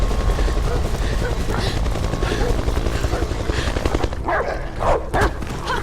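A dog barks several times in the video game Beyond: Two Souls. The barks sit over a loud, steady mechanical drone like a helicopter, and someone talks through it.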